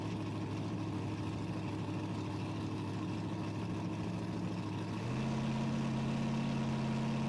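A 1969 Chevrolet Camaro muscle car sits idling at a drag-racing event, its engine giving a steady, low, lumpy drone that steps up slightly in pitch near the end.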